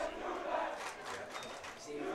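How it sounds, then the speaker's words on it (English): Canisius football crowd shouting in protest at a game against St. Joe's, a faint, distant rumble of raised voices blending into general crowd noise. "You hear the Canisius crowd saying, you can't do that."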